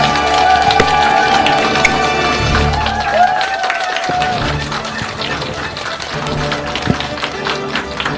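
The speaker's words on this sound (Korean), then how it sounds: "여러분 모실 때 누구보다 뜨거운 박수 한해 주시기 바랍니다" Seminar audience applauds loudly as a top leader is welcomed to a network-marketing business event, a steady wash of clapping with crowd noise and music running through the whole stretch.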